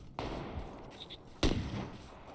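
Gunfire in the battle royale game PUBG during a four-squad match: two sharp shots, one faint and one louder, crack over steady background noise, each followed by a short decaying tail.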